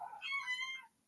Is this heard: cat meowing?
yes